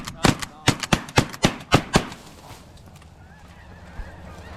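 Shotguns firing at snow geese in a hunt, about nine loud sharp blasts in rapid succession over two seconds, then quieter outdoor background with a faint goose call.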